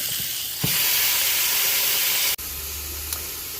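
A steak sizzles on a grill with a loud, close, continuous hiss. A brief knock sits near the start, and a sudden break midway is followed by a slightly lower, steadier sizzle.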